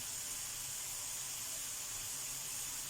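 Black and white shimeji mushrooms stir-fried with salt in a pan without oil give off a soft, steady hiss of steam that holds evenly throughout, faint and with no voices.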